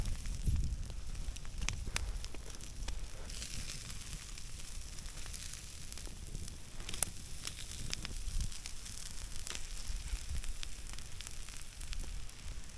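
Campfire burning on a cold winter night with steak and crab cooking over the coals, a quiet steady hiss with occasional sharp crackles and pops, soft and close, no talking.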